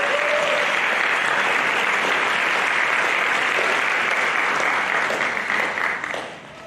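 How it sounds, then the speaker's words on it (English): Graduation audience applauding at a senior high school ceremony, a loud, thick wall of clapping from a large crowd that holds steady, then tapers near the close with a faint voice early on. "And I think they all deserve a round of applause."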